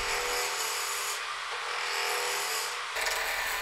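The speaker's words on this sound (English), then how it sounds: "To make my square blank round, I'm using a spindle roughing gouge and a bevel rubbing cut." Spindle roughing gouge taking a bevel-rubbing cut on a square wood blank spinning on a lathe while roughing a finial blank, a steady close-up rasping scrape that holds continuously, shifting in tone near the end.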